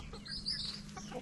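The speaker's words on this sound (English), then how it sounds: "Definitely rooster." A rooster gives a short, faint cluck from some distance, brief and slightly raspy against quiet outdoor background.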